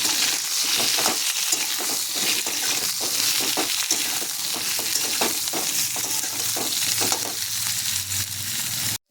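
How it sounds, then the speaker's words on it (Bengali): Eggplant pieces fry in mustard oil for begun sundori, a loud, continuous crackling sizzle with scattered stirring clicks and scrapes, close up and without voices. "বেগুনগুলো আমি একটু ভালো করে ভেজে নেব।"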